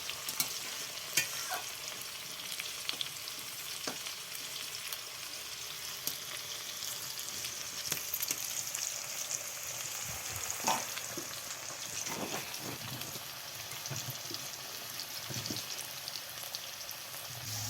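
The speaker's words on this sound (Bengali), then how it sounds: "আমার আলু ভাজা হয়ে গেছে" Potatoes fry quietly in hot oil, a soft continuous sizzle with occasional crackles and pops, with no one speaking.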